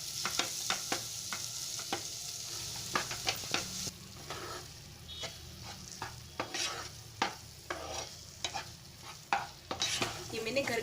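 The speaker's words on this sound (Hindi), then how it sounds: "इसी पैन में हम मावा को भून लेंगे। मावा को भी हमें हल्का सा भूनना है।" Homemade mawa (milk solids) roasting in a pan while a spatula stirs it, with steady scraping strokes, sharp repeated clicks against the pan and a soft sizzle underneath, close up and without talk.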